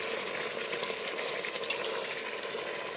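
Chuck roast browning in a hot pan, making a continuous close sizzle with faint crackles and no talking.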